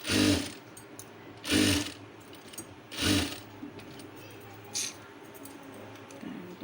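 A sewing machine stitches piping onto a star-neck blouse in three loud, evenly spaced whirring bursts, followed by a shorter fourth burst, with quiet pauses between runs.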